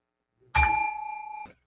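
A single sharp ding from a desk bell, loud and close, ringing out with a bright sustained tone before it is cut off.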